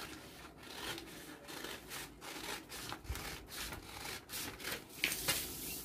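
Cutting cloth for a long 3/4 sleeve, heard as a steady run of rhythmic scraping cutting strokes, close and continuous throughout, with no voices.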